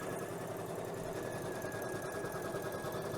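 An embroidery machine stitches out a quick motif with a steady, fast mechanical chatter and hum, continuous and moderately close with no talking.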